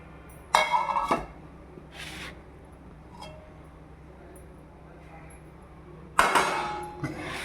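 Pieces of fish being put into a bowl give sharp clinks and knocks against it, two clusters of loud clatter separated by a long quiet stretch with faint scattered taps.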